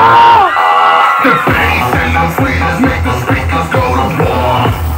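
A large carnival crowd shouts and cheers loudly, with high-pitched screams and whoops rising over a steady thumping beat.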